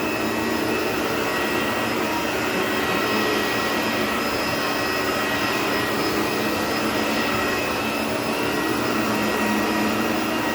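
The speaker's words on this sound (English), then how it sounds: "We vacuumed up a weird thing" An Electrolux Epic upright vacuum cleaner running loudly and continuously, a steady high-pitched motor whine over a broad airy roar that holds without pause, no speech.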